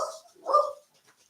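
Jack Russell terriers barking indoors, two short yapping barks a moment apart, fairly near and clear with no talk over them.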